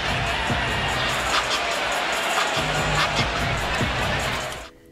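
A basketball arena crowd during a scuffle between NBA players, a dense steady roar of many voices with scattered shouts, loud throughout and fading out at the end.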